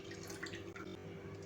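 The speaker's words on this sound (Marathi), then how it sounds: "तो लिंबाचा रस या पाण्यात ॲड करायचा आहे" Lemon juice poured into a pan of boiled water gives a steady close liquid trickle with a faint splashy texture, running continuously for a second and a half.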